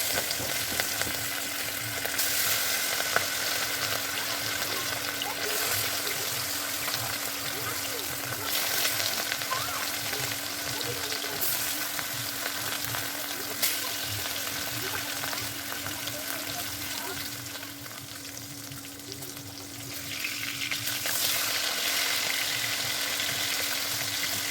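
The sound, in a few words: fish frying in a pan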